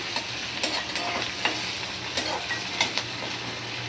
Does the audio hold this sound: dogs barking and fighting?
no